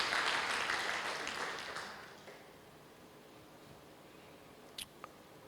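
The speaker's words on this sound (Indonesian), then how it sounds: "Tepuk tangan dong buat dia yang menyelamatkan kita." A congregation at a Thursday church service claps in applause for God, already fading at the start and thinning into a quiet room within about two seconds, followed by a couple of faint isolated knocks.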